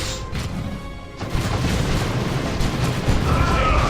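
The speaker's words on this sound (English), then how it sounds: "we're gonna throw a grenade in here" A deep, booming grenade blast from Dawn of War 2 Retribution, with a crash that erupts after a brief lull and settles into a sustained rumbling roar.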